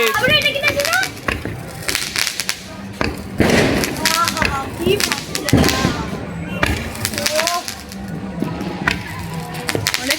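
Firecrackers bursting on Kali Puja and Diwali night, a loud, dense string of sharp cracks and bangs with whistling streaks, some close and some farther off, while people talk through it.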